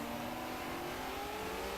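In the racing video game GT Reborn, a race car engine revs as a faint, steady, mid-pitched whine with rising harmonic tones, holding level across the short stretch.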